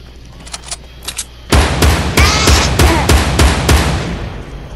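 Rapid bursts of gunfire ring out in Fortnite, a few faint pops first and then a loud, dense run of repeated shots lasting several seconds.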